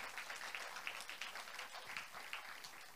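A church congregation applauds together, a dense, steady wash of clapping that sounds somewhat distant and soft, continuing without pause throughout.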